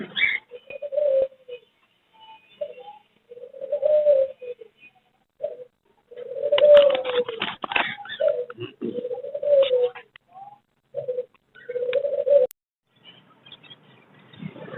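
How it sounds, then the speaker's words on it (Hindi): A pair of Russian doves at a Sunday bird market coo in repeated soft, rolling phrases, close and clear, with brief rustles between calls and quiet surroundings. "ये जी रशियन डव है हमारे पास में।"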